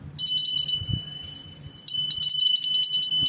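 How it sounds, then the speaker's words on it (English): A bright, high bell tone rings and sustains, briefly fades, then rings again and keeps shimmering over faint background rustle. "We're going to ring the bell."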